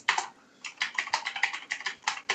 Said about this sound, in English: he's typing the play now